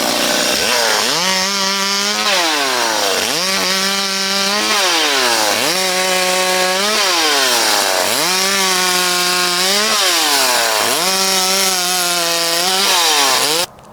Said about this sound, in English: using a fossil fuel driven chainsaw, which has been used probably, I don't know, 50 or more years.